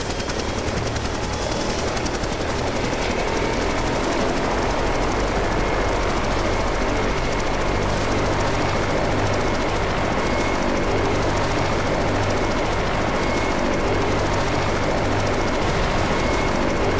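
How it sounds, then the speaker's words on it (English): A helicopter in the Left 4 Dead 2 video game flies overhead, its rotor and engine giving a continuous, loud, churning roar that holds steady throughout with no talk. "That's what the helicopter was doing, Uni."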